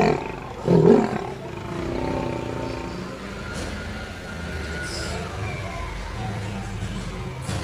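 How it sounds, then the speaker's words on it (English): A lion gives one loud, deep roar early on, then a lower rumbling growl and ambient outdoor noise trail off for several seconds. "L for lion."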